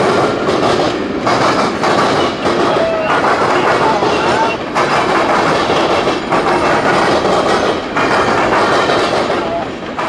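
A CSX local freight train rolls past on the C&O line in Marion, Ohio, loud and close, with a continuous rumble, clattering wheels on the rails and a brief high wheel squeal, filling the whole stretch.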